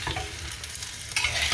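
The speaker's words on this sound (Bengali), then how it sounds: "টমেটো দিয়ে এরকম উল্টা পাল্টাভাবে নাড়তে হবে, যাতে সব মশলা এর সাথে মিশে, সবজির সাথে মিশে।" Potato and tomato curry stirred in a frying pan, a close continuous sizzle with scraping spatula strokes that grow louder toward the end, no voices.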